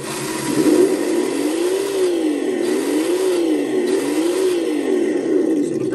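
An engine sound module on a Redcat Gen8 V2 RC truck, a loud synthetic V8 rumble that swells and dips in repeated rev cycles, steady and close.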